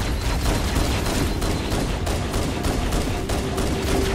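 Gunfire rattles continuously in Halo Anniversary on Legendary difficulty against the Flood, a rapid, evenly spaced string of sharp loud shots over a dense combat din, with no pauses.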